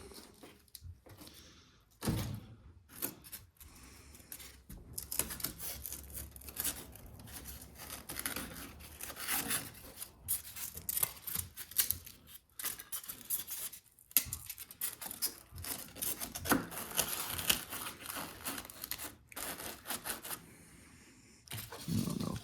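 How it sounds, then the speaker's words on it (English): Foam being cut for a mini crawler track build, a run of scraping, snipping cuts in irregular bursts with short pauses, close and moderately loud, no talking. "This little part here, I wanted to cut this and flip it around and glue it to the inside."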